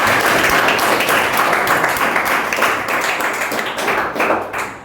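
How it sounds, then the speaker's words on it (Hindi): Loud, dense applause from a seminar audience congratulating a successful candidate, a continuous wash of many hands clapping that stays strong for several seconds with slight swells. "जोरदार ताली होनी चाहिए"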